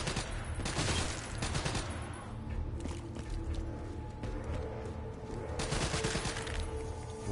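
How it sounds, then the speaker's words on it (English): Minigun in a shooting video game, firing long, dense bursts of rapid shots that rise and fall in loudness across several seconds, with a brief lull between heavy volleys. "I got the minigun"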